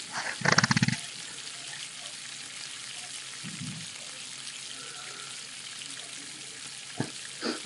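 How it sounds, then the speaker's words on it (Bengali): Chicken pieces for a curry cook in a pan with added water and get stirred, a faint steady sizzle and simmer with a few louder scraping bursts near the start and one brief knock later. "সিম্পল মাংসটাকে আমরা ভালো করে নেড়ে নেব"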